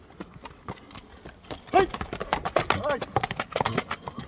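Horse hooves clip-clopping on the ground among horses at an ulak (kok-boru) gathering, a quick irregular run of hoof beats mixed with people talking nearby.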